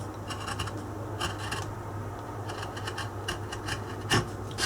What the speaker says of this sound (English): And then we take our craft knife